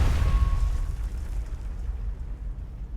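A shrapnel bomb detonates in World of Warcraft during a Dragonflight raid in the Aberrus, the Shadowed Crucible, with a deep boom at the start that rumbles and slowly decays over several seconds, with no voices.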